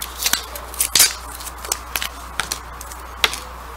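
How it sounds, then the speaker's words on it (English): Craft wire being snipped with a small cutter, giving sharp, crisp clicks at irregular intervals with a few brighter snaps, close and fairly quiet in an otherwise still indoor room. "So I'm going to cut another piece about the same length from the wire that I have here."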